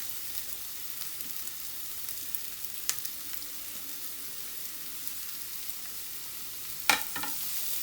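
Chopped onion and curry leaves frying in a pan for veg cutlets give a soft, continuous sizzle, with a couple of sharp clinks from the pan along the way.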